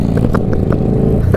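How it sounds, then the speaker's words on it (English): Loud exhaust of a Low Rider motorcycle, a close, rough engine drone with several sharp revving blips and clattery pulses in quick succession. "That exhaust is ear piercing"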